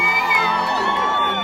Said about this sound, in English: Massive crowd of women marching behind me. This is the front line, and they're pretty amped.